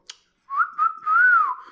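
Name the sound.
person whistling imitating a pet bird's whistle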